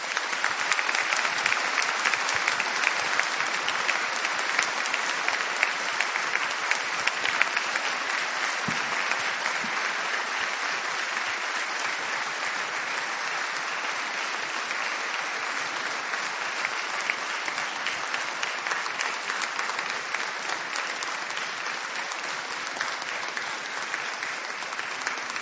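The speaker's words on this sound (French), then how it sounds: "Je propose de l'applaudir chaleureusement." A large audience at a socio-political lecture applauds warmly, a dense, sustained roar of many hands clapping that stays strong and steady for over twenty-five seconds with no talk over it.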